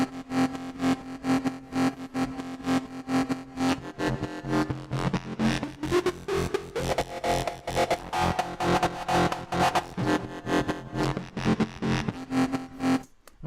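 Synthesizer patch in Native Instruments Massive, a pulsing, rhythmically gated tone with a rising pitch sweep midway and dense buzzing harmonics, steady and moderately quiet with no talking.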